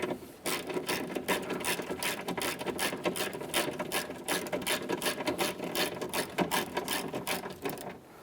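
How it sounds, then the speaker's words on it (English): Quick repeated ratcheting clicks come from a hand ratchet driving two 10mm mounting bolts into a power window regulator in the front door of a 2015-2019 Subaru Outback, close and steady with brief pauses. "we have our two 10mm mounting bolts. When I'm tightening these, I like to use a hand tool."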